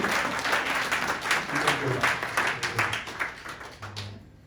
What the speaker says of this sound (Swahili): Patia Bwana Yesu makofi.